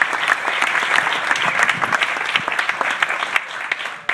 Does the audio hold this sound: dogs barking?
no